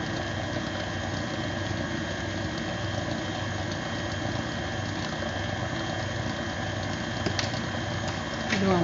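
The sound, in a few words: mixer mixing cake batter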